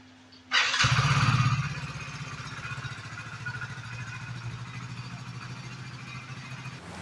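A motorcycle fitted with a GPS tracker is started, a short cranking burst catching into a loud close engine roar that settles into a steady, even idle.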